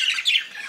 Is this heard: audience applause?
no